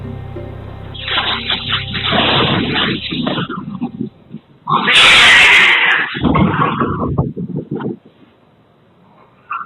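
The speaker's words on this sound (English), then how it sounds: "Stormy violently hisses at something that we can't see" A cat named Stormy hissing violently, a loud harsh burst midway preceded by growling cat yowls, with some other noise and a brief voice mixed in.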